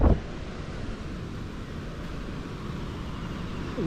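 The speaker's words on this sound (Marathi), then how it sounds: "नदीला पाणी तुडुंब पाणी भरलं" A monsoon-swollen Konkan river rushes past, brimming up to the bridge after the first rains, making a continuous broad roar of churning water mixed with wind buffeting the microphone.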